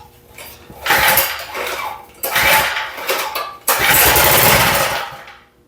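A Powermate lawn edger with a leaking fuel system, choke on, pulled to start in bursts, then its small engine catches and runs loud and close.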